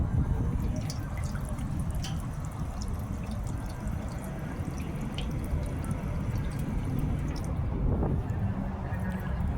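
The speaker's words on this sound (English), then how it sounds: "Let's see how cold this water is, or even if it's on." Water splashes and trickles continuously from a park drinking fountain, a steady close-up gush of running water with faint drips.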